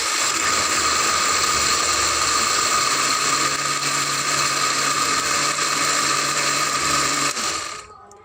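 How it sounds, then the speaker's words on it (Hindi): An electric blender whirs steadily as it mixes eggs, sugar and oil for a strawberry cake batter, with a loud continuous motor whine that holds for about seven seconds before cutting off. "अब हम इन सारी चीज़ों को अच्छी तरह से ब्लेंड कर लेंगे।"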